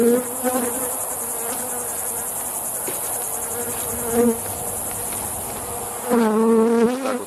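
A dense, steady buzzing of many honeybees around hives fills the air, with individual bees droning louder as they fly close by.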